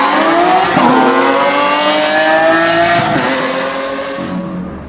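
A loud 6.5-litre naturally aspirated V12 engine in a Lamborghini Urus with a Novitec exhaust revs hard, pitch climbing through the gears with brief dips between shifts, then fading slightly.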